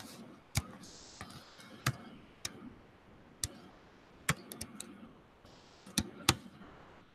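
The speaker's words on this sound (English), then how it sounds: "I don't know why I'm typing answers in chat, but I am." Sparse, sharp clicks of keys being typed on a keyboard come in irregular bursts, some isolated taps and a few quick clusters, fairly close and quiet, with no talking.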